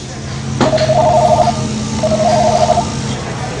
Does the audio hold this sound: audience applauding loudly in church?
no